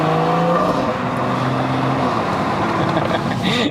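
A BMW M140i hot hatch engine rumbles and revs close up, a throaty droning tone that shifts in pitch as the car pulls through the gears, with a brief crackle at the very end.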